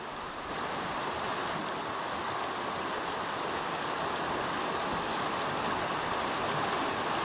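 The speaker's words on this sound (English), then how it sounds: "Vladimir is driving the car across the river by the old proved method, obliquely and down the stream to the opposite bank" A car driving across a shallow mountain river, fording obliquely downstream toward the opposite bank, with a continuous broad rush of churning water and engine-muffled noise, close and steady throughout without voices.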